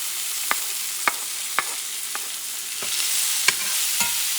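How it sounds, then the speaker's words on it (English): Chopped garlic being stirred in a hot pan with a spoon, about three or four cloves, gives a steady soft sizzle broken by a series of distinct scraping clinks roughly every half second. "Mix, mix, mix. About 3 or 4 teeth of garlic, chopped."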